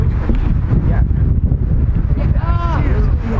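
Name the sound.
wind blowing on the microphone outdoors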